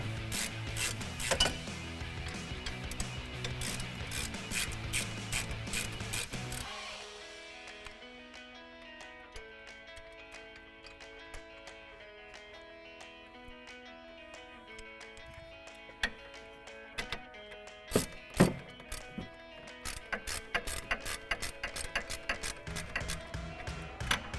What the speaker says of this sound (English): use your ratchet to go ahead and finish taking them out